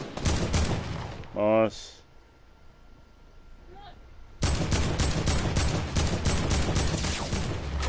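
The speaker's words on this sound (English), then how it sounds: "Someone else is shooting." Rapid bursts of gunfire from a PS4 shooter game crackle loudly, stopping for a quieter stretch with a brief whistling tone before sustained automatic fire resumes, while someone speaks briefly.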